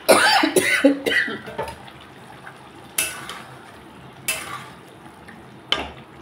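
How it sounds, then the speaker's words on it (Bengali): Cauliflower and potatoes stir-fried with tomato spice paste in a pan, giving a burst of busy scraping and sizzling at first, then quieter frying broken by a few sharp clatters of the spoon against the pan. "ফুলকপি আলুর সাথে আমি মশলাটাকে কষিয়ে নিচ্ছি"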